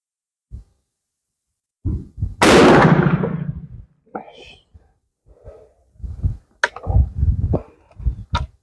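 Sharps rifle built by IAB, loaded with 27 grains of IMR 4198 powder and a CCI 200 primer, fires one loud close shot with a broad blast and fading tail, followed by talk and small handling noises.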